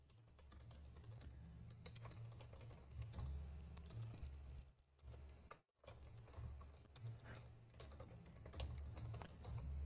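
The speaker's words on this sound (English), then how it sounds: "I'm gonna go ahead and type that for you." Rapid, continuous clicking of a computer keyboard being typed on, close and fairly quiet, with one brief pause partway through and no talking.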